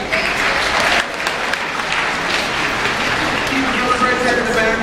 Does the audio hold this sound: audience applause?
yes